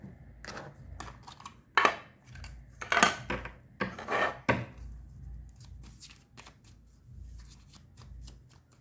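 Tarot cards are drawn and handled from a deck, close up, making quick papery flicks, slides and soft taps in uneven bursts, with a few louder snaps in the middle and no talking.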